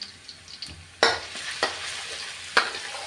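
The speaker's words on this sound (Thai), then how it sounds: "เราเจียวกระเทียมก่อน" Garlic frying in oil in a pan for Thai fried rice with fermented pork sausage, a soft continuous sizzle broken by several sharp scraping stirs of a utensil.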